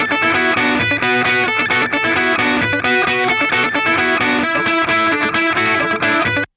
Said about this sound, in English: I picked the tube pair, and I pushed up the distortion until I got what I liked out of it.